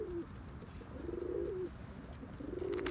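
Tumbler pigeons coo softly in three drawn-out, low calls spaced across a few seconds, nearby but gentle, with faint background noise.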